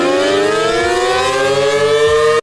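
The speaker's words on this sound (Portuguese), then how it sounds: "Que sirene doida que é essa aqui?" A video game's civil-defense-style siren warning of a rabies outbreak, a loud, sustained wailing tone with a slowly drifting pitch that holds steady and then cuts off abruptly, with no voices over it.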